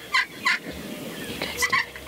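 A wild turkey gobbles during a South Dakota spring hunt, two quick bursts of rattling gobbles then another pair, fairly clear at moderate distance with no talking.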